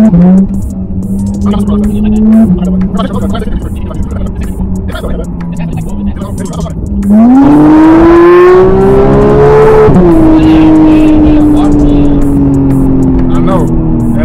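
A Porsche GT3 engine pulls hard in third gear, a loud steady drone whose pitch dips at a shift, then surges and climbs into a howling rise before easing off, with voices talking over it.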